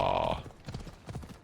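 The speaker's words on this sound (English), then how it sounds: "There's my horse." Horse hooves clip-clop in a video game (Assassin's Creed Odyssey on Xbox), a short run of close, fairly loud hoofbeats following a brief tonal game sound at the start.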